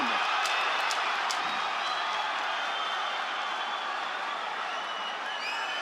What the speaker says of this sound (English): Have you ever heard a crowd like this?